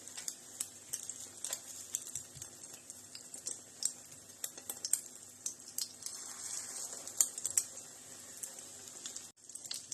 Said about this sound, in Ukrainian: Вафельки смажаться наші в яйці.